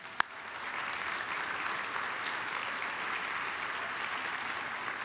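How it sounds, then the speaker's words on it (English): An audience at an MLK Day program applauds students, a steady wash of many hands clapping at moderate distance, with a sharp knock near the start. "Let's give them a round of applause."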